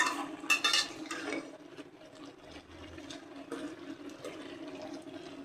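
A pointed gourd curry stirred and sautéed in a pan, starting with a louder burst of scraping and sizzling, then softer intermittent stirring scrapes and clinks against the pan.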